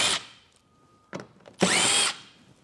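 A power drill or impact tool removes 7-millimeter bolts beneath a 2023 vehicle while a Roadmaster base plate kit is installed: a short opening burst, a brief whir, then a sustained loud spin of about half a second, with no talk.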